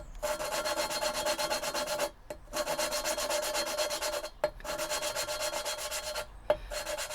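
Continuous gritty rubbing of metal against metal as Ford Transit engine valves are lapped with grinding paste, in long rhythmic back-and-forth strokes, broken by short pauses, close and steady with no voices.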